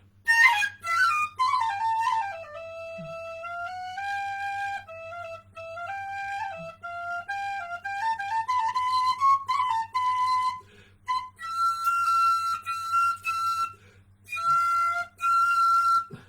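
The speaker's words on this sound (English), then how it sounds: "I'm starting with a little bit of flageolet here while people foregather" A high, bright flageolet whistle wanders through an improvised melody in short phrases with brief pauses, over a faint steady low hum.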